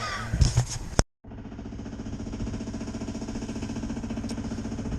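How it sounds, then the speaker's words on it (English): A boat's engine starts after a brief silence, then settles into a steady, close, rhythmic idle that carries on alone for several seconds. Some knocking and clatter come before the start. "So I'm going to start the engine, and we're out of here."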